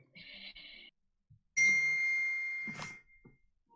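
A phone notification chimes nearby: a short bright tone first, then a longer sustained ding that fades, followed by a faint clatter, with no speech.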